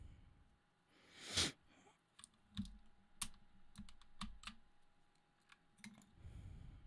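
Plastic keycaps from a Razer Huntsman Mini keyboard clatter and click as they are dropped and handled, a scattered series of sharp, light taps close by with quiet gaps between.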